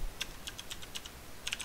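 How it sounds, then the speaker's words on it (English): Quiet, irregular clicks of keys being typed on a computer keyboard, about a dozen taps in quick uneven bursts with no talking. "Really struggling with the typing today."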